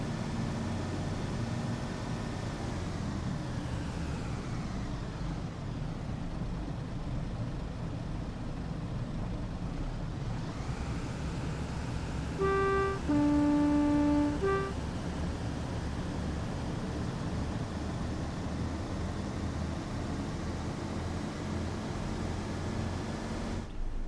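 Simulated TSW 31 diesel locomotive in Train Sim World 2, a steady low engine drone with a pitch shift partway through and a short two-tone horn blast near the middle, without talk.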